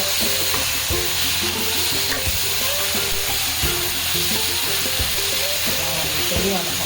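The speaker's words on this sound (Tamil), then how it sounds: "இப்போ மூடியை திறந்துட்டு கத்திரிக்காயெலாம் கொஞ்சம் நல்லா வதங்கிருக்கும். அதை கொஞ்சம் நல்லா கிளறி வச்சு" Eggplant being stirred as it sautés in a pan for a Tamil-style ground prawn head curry, with a steady close sizzle and frying crackle running throughout under repeated scraping and stirring knocks.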